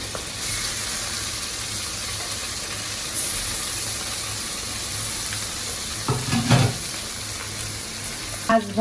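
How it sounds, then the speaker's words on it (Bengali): Fish frying in hot oil in a Bangladeshi home kitchen: a steady, close sizzle running throughout, with a few louder bursts of crackling and stirring near the end. "তেলটা গরম হয়ে গেছে, এবার আমি মাছটা ছেড়ে দিব ভাজার জন্য।"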